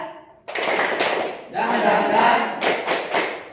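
A class of young children performs a rhythmic clapping routine in a classroom, their claps and chanted voices blending together loudly after a teacher's lead-in.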